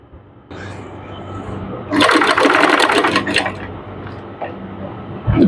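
An electric sewing machine stitches lace onto fabric corners in short bursts: a quiet hum, then a loud, fast rattling run of stitching in the middle, trailing off into softer handling noises.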